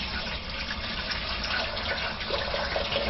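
Water runs steadily from a tap, a continuous close rushing and splashing that holds at an even level throughout, with no voices.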